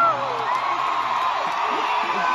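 A crowd at a concert in San Diego cheers and whoops continuously, a steady wash of voices and yells at moderate volume.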